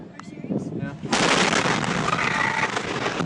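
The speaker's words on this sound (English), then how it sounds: "The explosion had the force of a small earthquake." A sudden loud blast from a massive town explosion erupts and becomes a dense, sustained roar with crackling debris, following a few quieter thumps.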